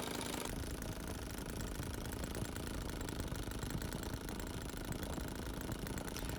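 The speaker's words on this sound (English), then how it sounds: "It's quite a pleasing noise, and it sounds like it's going to be a great little motor." A small model aircraft engine in a 1:4 scale Citabria idles with a steady, rapid buzzing rattle, close and continuous throughout.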